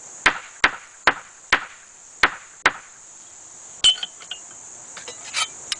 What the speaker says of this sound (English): I killed an ant with a hammer.